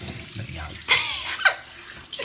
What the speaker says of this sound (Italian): Lo sciacquone.